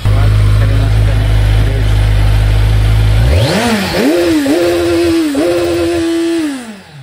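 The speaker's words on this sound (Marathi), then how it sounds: "इकडे बघा एक कावासाकीची 1100 cc बाईक उभी आहे. तिचा पण आवाज दाखवतो तुम्हाला." A Kawasaki 1100SX superbike with an 1100cc engine idles loudly up close, then is revved repeatedly in sharp, rising bursts that fall back between each twist of the throttle.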